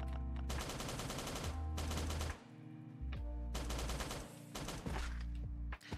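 Scatter-shot gunfire from the Last Day on Earth survival video game, loud rapid bursts of automatic shots in several blasts separated by short gaps, with no talking.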